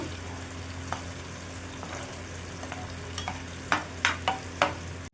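Meal maker pakodas and whole green chilies deep-frying in oil make a steady close bubbling sizzle, punctuated by several sharp clicks and scrapes of a utensil stirring the pan toward the end.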